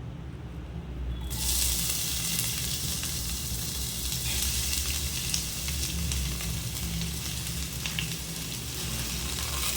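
Onions sizzle loudly in hot oil and ghee for biryani, a bright crackling hiss that starts abruptly and stays steady close by, with occasional stirring scrapes.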